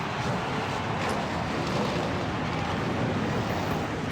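Many stock race car engines roar together at Talladega in a racing video game, a dense, steady wall of engine noise with no talk.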